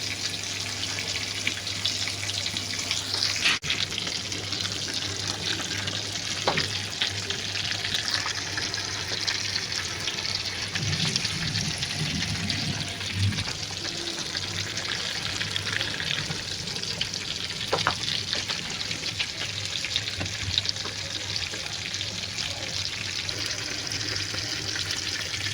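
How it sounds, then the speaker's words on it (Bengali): Koi fish frying slowly in oil over low heat, a steady soft hiss and crackle running continuously throughout without any talk. "আমি অনেক সময় করে ভেজে নেব মাছগুলো। যত সময় নিয়ে ভাজবেন তত খেতে ভালো লাগবে"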